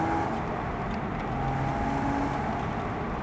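Porsche Boxster 987 2.7 Tiptronic convertible accelerating after a kickdown, a steady engine drone with faint tonal whine held at constant loudness throughout, no voices.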